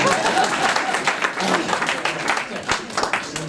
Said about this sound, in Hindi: अब तो तालियां बजा दीजिए ना।